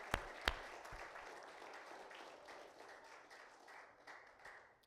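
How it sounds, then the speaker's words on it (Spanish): Church congregation giving a round of applause as an offering of praise, a steady, moderately distant wash of many hands clapping that tapers slightly, with a couple of sharper claps near the start. "Dele una alabanza al Señor, una ofrenda de palmas para el Señor."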